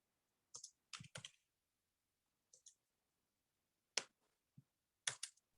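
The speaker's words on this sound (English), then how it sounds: "adjourn once Kalina stops typing" Faint, close bursts of keyboard typing during a committee meeting come in short scattered clusters of clicks with silent gaps between them.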